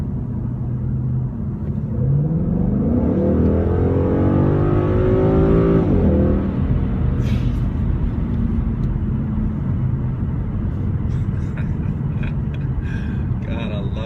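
A 2016 Ford Mustang GT base model with automatic transmission accelerates hard in drive, its V8 rising in a loud, sustained climb heard from inside the cabin, then settling into a steady drone.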